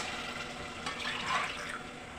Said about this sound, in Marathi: आणि हा अर्धा टोटल अडीच ग्लास पाणी घातलेलं आहे